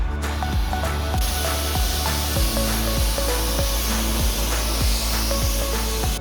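A loud continuous high-pressure car wash spray hisses steadily as it rinses a car, with a pump pulsing rhythmically underneath throughout.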